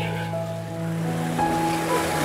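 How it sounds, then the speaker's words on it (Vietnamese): Broad, wide stream running strongly in a wild spot on an afternoon, a steady loud rush of water with a constant low roar filling the whole stretch, no voices over it. "nước chảy rất là mạnh nha."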